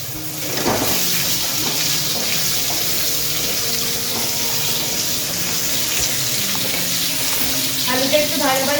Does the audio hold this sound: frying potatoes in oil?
yes